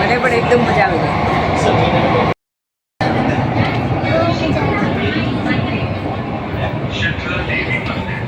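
Inside a moving Mumbai metro train, a steady rushing rumble of the carriage carries on beneath people chatting, with a brief cut to silence partway through.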